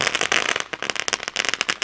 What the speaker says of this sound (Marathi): फटाक्यांचे आवाज जे आपण ऐकतात